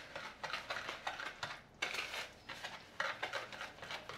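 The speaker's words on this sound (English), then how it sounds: "Mix it up." Carrot cupcake batter being mixed in a bowl, a rhythmic scraping and clinking of utensil against the bowl, repeating steadily at close range with a brief pause midway.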